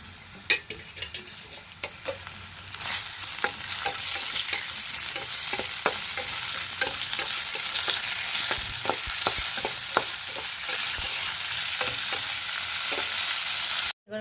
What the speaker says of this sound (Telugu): గ్యాస్ స్టవ్ వెలిగించుకొని కొంచెం ఆయిల్ పోసుకొని అయితే ఫ్రై చేసేసుకున్నాను